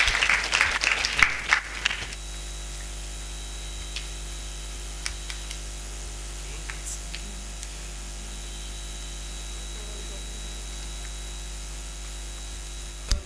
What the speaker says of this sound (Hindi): उनके भी नाम से जोरदार तालियां का स्वागत है